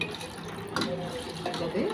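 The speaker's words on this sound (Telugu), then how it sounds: "ఒక కప్పు వాటర్ వేసుకున్నాం" Water runs and splashes into a bowl of curd in a home kitchen, a steady close pour with small gurgles and drips.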